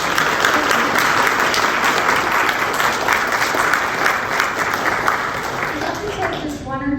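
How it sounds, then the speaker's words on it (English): Full audience applause for a speaker at an alumni mini-lecture event, dense and steady before tapering off near the end. "What a round of applause."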